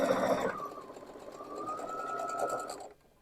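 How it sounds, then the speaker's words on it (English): A sewing machine stitches quilt blocks at a quarter-inch seam: a steady, close, whirring hum that runs for about two and a half seconds and then stops. "We're going to sew those down at a 1/4 inch seam."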